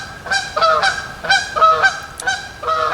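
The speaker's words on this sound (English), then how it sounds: "geese" Geese honk repeatedly nearby, a string of loud, nasal calls in uneven bursts with short gaps between them.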